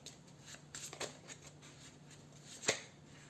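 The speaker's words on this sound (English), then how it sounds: "So I'm gonna shuffle it." A small tarot card deck shuffled by hand during a card reading, giving a quiet run of soft riffling flicks and taps with one sharper snap near the end, close and with no talk over it.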